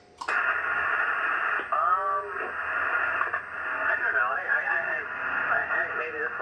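A Yaesu FT-101 ham radio receiving on the 80 meter band at night gives out narrow, band-limited voice audio through a continuous hiss, with the operator's voice talking over it.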